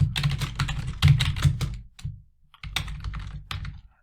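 Fingers type on a computer keyboard in two quick bursts of clicky keystrokes with a short pause between them, close and clear, with no voices.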